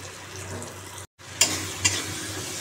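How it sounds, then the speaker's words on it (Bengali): Spices with cumin powder, turmeric and salt fry for a fish curry, a close, steady sizzle in the pan, broken by a brief gap, then two sharper scraping stirs. "দেখো মশলাটা আমি এখন কষাচ্ছি বন্ধুরা"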